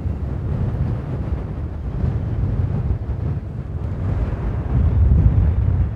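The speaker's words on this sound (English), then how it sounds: "now winds intensify so much that it's not very pleasant to be here" Strong wind buffeting the microphone at an Icelandic lava field, a steady loud low roar with gusts that swell toward the end, no voices.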